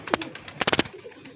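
Pigeons at a home loft on a gloomy, bad-weather day give short, soft coos and calls close by, in two little bursts with quiet gaps between.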